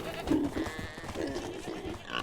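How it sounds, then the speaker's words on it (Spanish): Sheep in the medieval farming game Medieval Dynasty bleat in a short burst of a few wavering calls, moderately close, with faint background game ambience. "La mayoría son ovejas y chivos"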